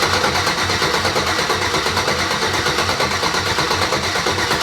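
An LS V8 engine swapped into an S10 pickup truck runs loud and close, with a fast, steady, rough chugging that does not let up.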